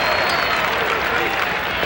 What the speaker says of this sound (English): The crowd appreciates it.